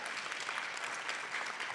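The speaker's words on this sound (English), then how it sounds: "You all can clap for that if you want to." Applause from an audience at a county board of commissioners meeting, a steady and fairly faint wash of clapping that lasts the whole short stretch, with no voices standing out over it.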